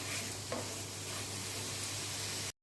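Chicken mince seasoned with salt and black pepper fries in a pan, giving a steady, close sizzle with a soft stir near the start and no voices.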